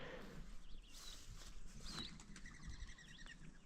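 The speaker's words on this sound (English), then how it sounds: "I heard clicking, but it's birds." Birds call and chirp outdoors in a front yard where a grazing herd feeds, short clicking chirps and tweets repeating irregularly at moderate distance over steady background noise, with some rustling and movement close by.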